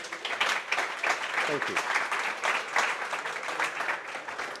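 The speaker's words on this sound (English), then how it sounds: "If we can have a round of applause for our panellists, please." Audience applause for the panellists at a sustainable data centre conference, a dense, steady clapping that fills the whole stretch, with a brief thank-you spoken over it.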